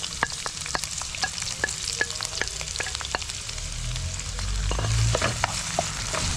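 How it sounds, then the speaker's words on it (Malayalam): Onions sauté with green chillies in a pan for a beef curry. A steady, close sizzle runs under frequent sharp scrapes and taps of a stirring spoon, and the frying grows slightly louder near the end. "ഇനി ഇത് നന്നായിട്ടൊന്ന് വഴറ്റിയെടുക്കണം."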